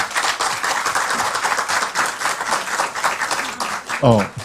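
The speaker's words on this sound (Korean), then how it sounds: "큰 박수로 부탁드리겠습니다." Audience applause at a South Korean political gathering after a question session, a steady, fairly loud round of many people clapping that holds for several seconds before a voice breaks in at the end.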